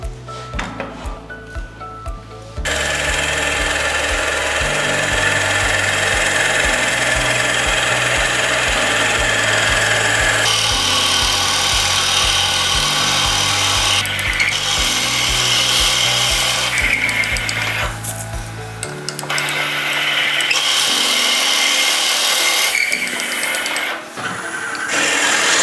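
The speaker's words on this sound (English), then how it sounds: "we're going to drill halfway, turn the piece round and drill from the other end" A steady mechanical whirring drone runs for a long stretch, its pitch shifting in steps as a Forstner bit on a lathe cuts into wood, then fading to a rougher grind.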